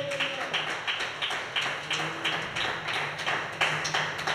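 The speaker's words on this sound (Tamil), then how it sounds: "கையை தட்டுங்க." A church congregation claps in a steady rhythmic beat during a worship service, the sharp claps repeating roughly twice a second and sounding close and full over a faint background hum.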